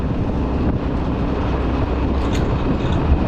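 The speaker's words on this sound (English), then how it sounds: "the interior is still rattling like crazy" A car rolls along on custom wheel fitment with new bushings and ball joints, its interior rattling steadily. A dense, continuous rumble and road noise fills the cabin, with faint clatter mixed throughout.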